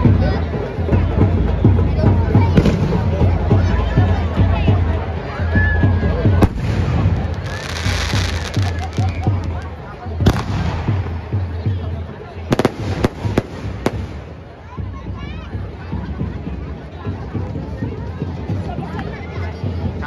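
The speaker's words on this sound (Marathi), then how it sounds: "अरे समोर डायरेक्ट फटाके अंगावर येते लय डेंजर फटाके" Firecrackers and fireworks burst continuously at a Dussehra Ravan Dahan on a Ramleela ground, loud crackling with sharp bangs over a noisy crowd, with voices shouting nearby.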